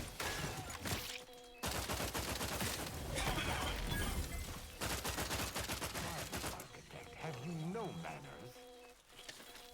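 Gunshots in the video game The Outer Worlds 2, bursts of loud broadband shots with crashing, shattering impacts under game sound and a voice, repeated across several seconds then easing off.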